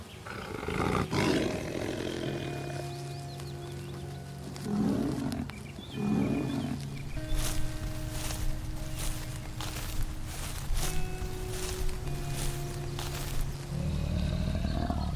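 Lions of the Mapogo coalition in the South African savanna, a series of loud, deep roars and grunts that repeat through the scene, close and dominant, with footsteps and rustling and no talk.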